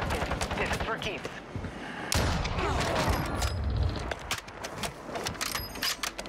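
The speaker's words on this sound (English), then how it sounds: "Who's shooting us in the back?" Rapid gunfire from the video game Warzone, dense overlapping shots and bursts that continue throughout at close range, mixed with other game noise and some speech.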